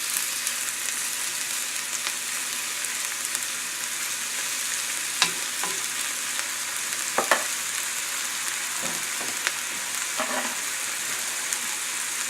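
Marinated fish frying in a tablespoon of olive oil, a steady close sizzle with a few soft taps and scrapes from stirring or turning, no voices.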